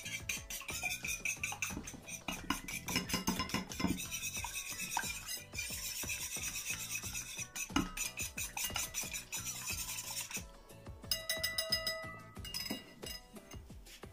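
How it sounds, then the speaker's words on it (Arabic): An egg beaten with a little red pepper, heard as a fast, steady rhythm of a utensil scraping and clinking against a bowl, close and continuous, with no talking. "عندي هنايا واحد البيضه مدربه مع شويه ديال الفلفل الاحمر، غادي ندربوها"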